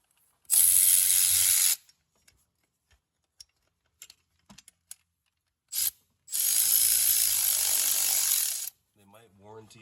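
A socket wrench ratchets hard on a large bolt on a Subaru Impreza 2.5i manual transmission, in two loud sustained bursts of rapid pawl clicking with faint taps and clinks between them. A brief voice comes at the very end.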